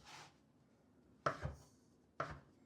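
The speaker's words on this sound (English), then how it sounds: "Time to cut the noodles." Knife chopping through folded sheets of rolled tagliatelle pasta dough on a board, cutting noodles slightly wider than fettuccine: three separate close, sharp cuts spaced about a second apart, with no talking.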